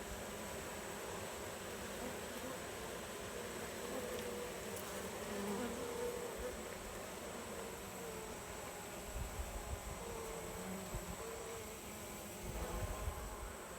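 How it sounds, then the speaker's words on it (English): Honey bees buzzing in an open Layens hive during an autumn inspection, a dense, steady hum of many bees close by, with faint handling bumps and rustles now and then. "There's a lot of bees in here."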